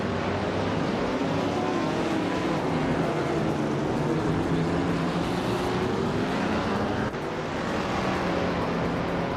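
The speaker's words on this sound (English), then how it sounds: "Primana is driving a 1977 Aston Martin F8 Vantage." A 1977 Aston Martin Vantage in a racing video game: a steady, dense engine roar that holds constant and loud throughout, with no clear gear changes or pauses.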